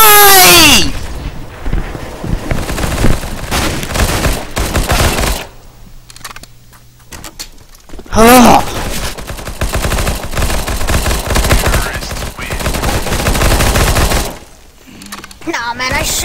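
Rapid weapon fire in Counter-Strike: Global Offensive rattles loudly in fast repeated bursts with short pauses, mixed with other game noises and a player talking over the shooting.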